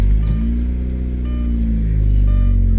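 A Mk1 Audi TT Quattro's engine, just started, idles with a steady low rumble and slight revving swells, with no voices.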